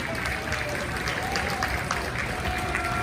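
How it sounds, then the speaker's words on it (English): Audience applause at a music hall of fame induction ceremony, steady clapping filling the room for a newly introduced inductee, with some crowd noise mixed in. "Jim Miller, would you give him a please big round of applause?"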